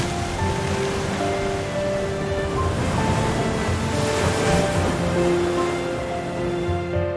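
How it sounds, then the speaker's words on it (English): Atlantic Ocean waves off the Canary Islands crash and wash against rocky cliffs in a steady, full roar of surf with wind noise, continuous and fairly loud throughout. "The uncompromising waves of the Atlantic Ocean break against the majestic cliffs"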